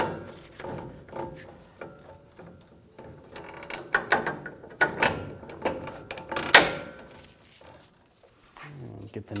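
A ratchet clicks in short bursts while a ball joint nut is started and tightened during a front strut replacement on a Ram 1500 pickup, with soft metallic clanks in between.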